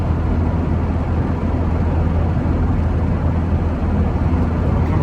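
Steady low engine drone and road roar from a 1939 Citroen Traction Avant Light 12 cruising down the road, an even, continuous sound heard from inside the car with no voices.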